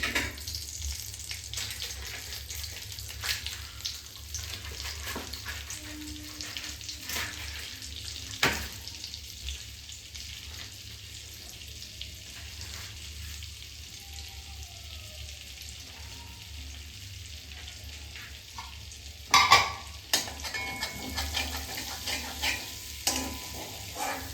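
Mustard oil and butter heat in a wok, giving a long, low, steady frying hiss with faint stirring scrapes and a brief clatter near the end.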